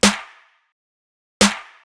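Three stacked snare samples from a bass track sound together as two sharp, loud isolated hits with a bright decaying tail, separated by silence.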